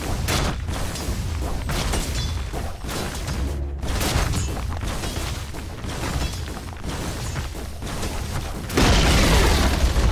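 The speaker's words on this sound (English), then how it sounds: "Radiant's top tower is under attack." A Dota 2 tower under attack and being destroyed, with dense overlapping booms, bursts and crashing impacts throughout, growing louder in a heavy rumbling blast near the end.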